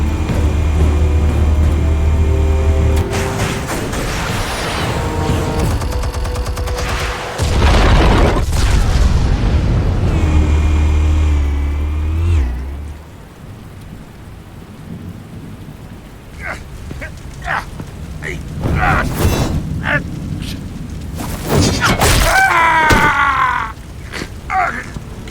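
Explosives detonate in Batman: The Telltale Series with heavy rumbling booms and a long rolling crash, the first half loud and the rest quieter, broken by scattered impacts and bits of dialogue.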